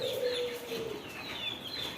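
Pigeons kept in pairs in a Bangladeshi-run poultry and pet shop in Oman, with low soft coos and chirpy bird calls mixed over a steady background hubbub, no speech.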